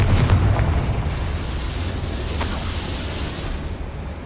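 A Confringo blasting spell explodes in Hogwarts Legacy, a loud deep boom that opens the clip and then rumbles away into a long, broad roar lasting several seconds.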